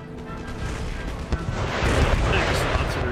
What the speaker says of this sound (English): Excellent artillery shot. Smacked straight into them.